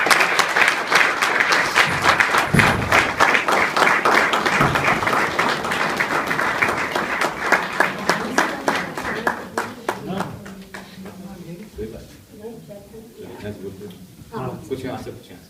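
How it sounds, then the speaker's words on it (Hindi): Audience applause welcomes poet Dr Kunwar Bechain at a Hindi kavi sammelan in Sydney, Australia: a dense, sustained wave of clapping that gradually thins into scattered individual claps toward the end. "तो डॉक्टर कुंवर बेचैन जी का तालियों के साथ स्वागत।"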